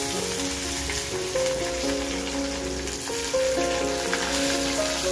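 Onions frying in a pan give a steady, loud sizzle that crackles throughout, with a faint tonal hum running underneath and no voices.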